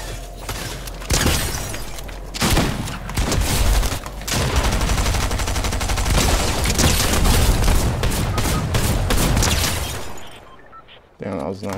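Rapid bursts of gunfire erupt in a Fortnite match, loud and dense for about ten seconds, with a player talking over the shots.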